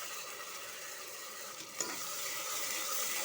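Ground spice paste fries with sautéed onions in a pan for mutton kuzhambu, making a soft, even sizzle with a single clatter partway through and no talking.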